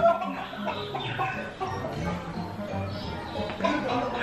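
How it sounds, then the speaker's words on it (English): Caged battery hens cluck in a garden display at a theme park, a busy, overlapping stream of clucks heard moderately close, mixed with crowd noise and voices. "Cage hen."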